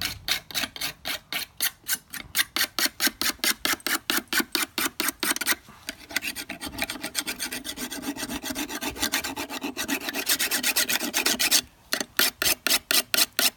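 A thick metal spatula is sharpened with a file in close, loud rasping strokes, first in a fast regular rhythm of short scrapes, then a longer continuous grinding stretch, then rhythmic strokes again.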